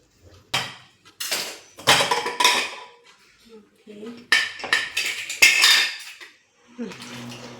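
A knife chops cabbage in a kitchen in irregular bursts of quick, sharp clacks and clinks, close and loud, separated by short pauses. A voice speaks briefly near the end.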